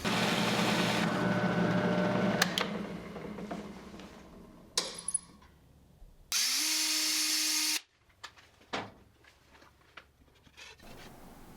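A drill bores a 7/8 inch hole in a workshop, the motor whirring steadily under grinding and scraping, then spinning up alone in a clear higher-pitched burst of about a second and a half before clattering handling noises.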